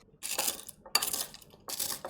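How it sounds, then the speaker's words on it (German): A spoon crushes food while homemade schnitzel is being prepared, giving three short clattering, scraping bursts close by with brief pauses between them. "Jetzt nehme ich einen Löffel und zerkleinere alles."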